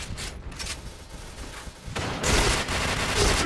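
Pindad SS2 V5 rifle gunfire in a video game, quick sharp shots with a denser, louder volley in the second half, close and without talk.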